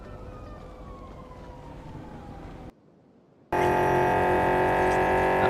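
A fire truck siren in the video game Kenshi wails steadily with a rising and falling pitch over engine rumble, cuts to near silence, then returns much louder and harsher.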